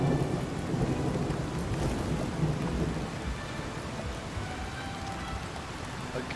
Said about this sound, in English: it's literally been raining the entire playthrough